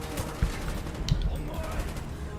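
Gunfire during a battle in Call of Duty Black Ops, with scattered shots and short volleys against a constant noisy battlefield backdrop, moderately distant and partly mixed with voices.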